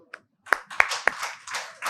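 Hand clapping: a few sharp, separate claps near the mic in an uneven rhythm, followed by looser noisy bursts, with a brief voice-like sound mixed in.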